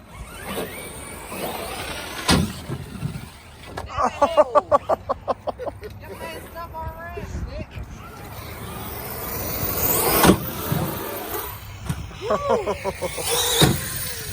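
An Arrma Kraton 8S RC car bashes through snow, its motor and drivetrain whirring in bursts with rapid pulsing revs and a couple of sharp knocks, while people talk and shout over it nearby.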